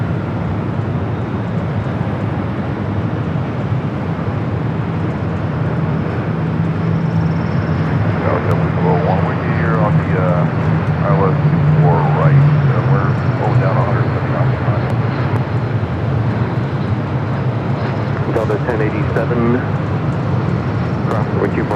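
Heavy jet airliners landing at LAX, a broad continuous engine rumble that swells toward the middle, with people talking over it throughout.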